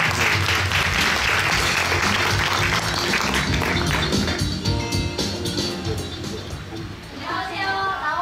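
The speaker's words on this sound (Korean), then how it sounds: "큰 박수 보내주세요." Loud, steady applause from a crowd at a student contest's final judging, filling the whole stretch with dense clapping without a break.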